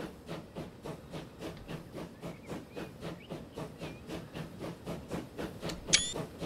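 A steam locomotive in the railway-building game Transport Fever 2 chuffs in a steady, even rhythm of hissing puffs, moderately loud, with a short bright whistle near the end.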